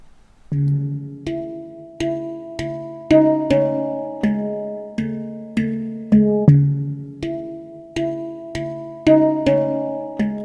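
A looped musical phrase recorded on a Boss RC-505 mkII looper plays back with plucked, harmonic tones repeating in a steady rhythm, clear and even throughout.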